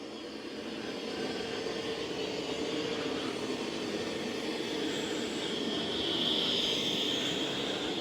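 A Dreame Matrix 10 Ultra robot vacuum runs steadily nearby with a continuous whooshing motor hum that swells slightly toward the end, and no voices.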